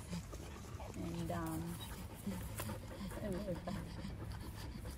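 A dog from a pack of dogs pants and gives a few soft whimpers close by, with people talking over much of it.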